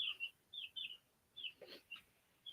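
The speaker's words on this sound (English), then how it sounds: "Those are my little baby chickens that I got the other day." High, thin peeping chirps of baby chicks repeat in short bursts, close and fairly clear against a quiet pantry room, with one brief lower rustle partway through.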